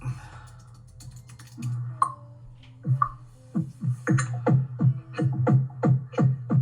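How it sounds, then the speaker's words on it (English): Close computer keyboard typing starts with scattered clicks, then speeds into a quick, even run of keystrokes over a constant low hum, with no talking. "Let me type it out."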